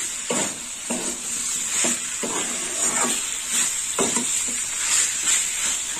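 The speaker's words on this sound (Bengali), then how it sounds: "ভালো করে আলু দিয়ে কষে নেবো" Fried potatoes stirred and scraped in a hot pan while preparing a Bengali chichinga (snake gourd) curry, a steady sizzle under repeated spatula strokes roughly every second, close and fairly loud, with no talking.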